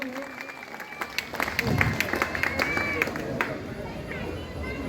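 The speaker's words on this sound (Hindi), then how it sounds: "उनके लिए भी जोरदार ताली हो।" A crowd at an election results announcement applauds a newly chosen vice president, scattered claps building into a busy round of applause amid crowd chatter and voices, moderately distant.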